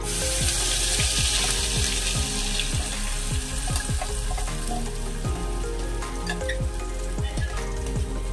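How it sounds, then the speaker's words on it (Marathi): Masala paste fries in oil in a pan for Kolhapuri misal. A dense, loud sizzle runs throughout, overlaid by a steady series of sharp scraping stirs close by, with a background hum underneath. "वाटणाला आपण चांगलं भाजून घेऊया"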